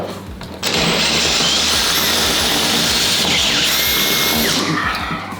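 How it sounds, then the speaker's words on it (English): A power drill bores a hole into a wall for a floating shelf, guided by a drill block; the loud, steady whine starts abruptly after a brief quiet moment and runs on continuously, near and alone. "now I don't think it's deep enough, so we'll continue drilling."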